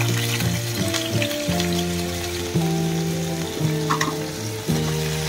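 Potatoes fry in hot oil in a pan as the first step of a crab curry, giving a steady loud sizzle with crackling pops. Low humming tones run underneath throughout, and no one speaks.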